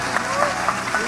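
Applause breaks out in a church congregation, a short steady wash of clapping with a few louder swells, while a voice carries on over it.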